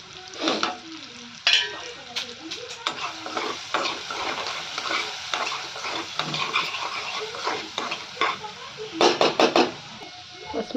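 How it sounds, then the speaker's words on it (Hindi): Thin, long-cut potato strips fry in mustard oil with turmeric and salt for aloo bhujia, a loud crackling sizzle punctuated by scraping stirs and knocks against the pan. "अब अपने सबके आलू की भुजिया में सरसों के तेल में बना रही हूँ"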